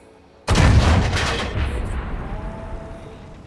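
A single heavy cannon blast from a tank gun, the Churchill Gun Carrier in World of Tanks, booms loud and close, then rolls into a long fading rumble.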